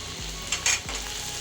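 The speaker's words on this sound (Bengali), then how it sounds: "এইভাবে আমি সবগুলো উপকরণ মিশিয়ে আমি 1 মিনিটের মতো ভেজে নেব।" Chicken pieces with a tablespoon of chili sauce frying and being stirred in a pan for a sandwich filling, a steady close sizzle with two utensil scrapes and a brief clink of cookware.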